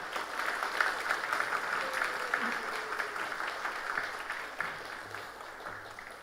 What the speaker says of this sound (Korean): 나오실 때 큰 박수로 맞이해 주시길 바라겠습니다